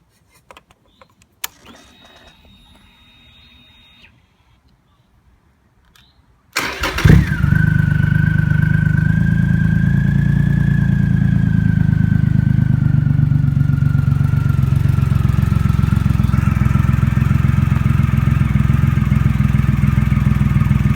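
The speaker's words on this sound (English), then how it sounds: "Let's fire up the bike, see what it sounds like." A 2005 Triumph Rocket 3 motorcycle with a custom exhaust cranks and fires up after a few faint clicks, then settles into a loud, steady, deep idle that rumbles close by without letup.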